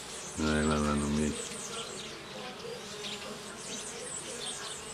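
Mandaçaia stingless bees buzz around flowers, a loud close drone for about a second as one passes near, then a fainter steady insect hum with background chirps.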